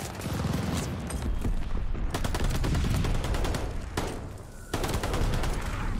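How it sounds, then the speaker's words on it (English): Type 11 light machine gun in Call of Duty: Vanguard, firing long sustained bursts of fast, loud, close gunfire with a couple of brief breaks, and mechanical clatter underneath. "It's the type 11. It's a LMG, the third LMG that you get."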